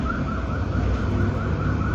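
A wailing emergency siren passes outside, steady and loud for the whole moment, its repeating rise-and-fall pitch sweep heard alone without any voices.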